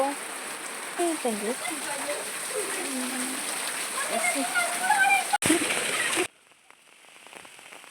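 Heavy rain pours down in a steady, dense patter close by, with a voice talking over it, then cuts off abruptly near the end.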